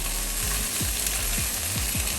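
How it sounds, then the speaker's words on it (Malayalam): Lemon pieces sautéing in hot oil in a pan for lemon pickle, a steady close sizzle with several soft scraping stirs of a spoon breaking through at intervals, no talk. "ചെറിയ തീയിലിട്ട് കുറച്ച് നേരം നല്ലപോലെ ഇങ്ങനെയൊന്ന് ഇളക്കി കൊടുത്താൽ മതി"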